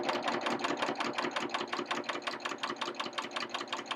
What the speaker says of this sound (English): I'm going to stitch along a little bit further and show you what an ideal turn and stitch looks like with the Downturn Feller